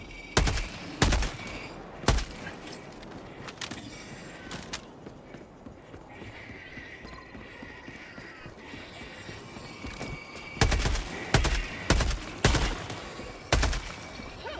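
Rapid bursts of gunfire in the co-op shooter Helldivers 2, loud clustered shots at the start and again near the end, with a quieter stretch of background battle noise between.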